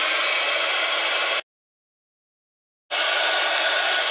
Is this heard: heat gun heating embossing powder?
yes